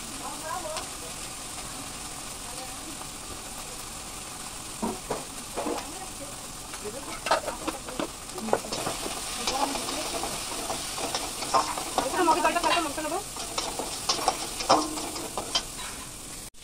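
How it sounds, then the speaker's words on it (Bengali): Spice masala sizzling and being stirred in a pan while frying, a continuous hiss broken by scraping strokes that grow busier toward the end, with a voice speaking over it at times. "মশলাটা কষা হয়ে গেছে।"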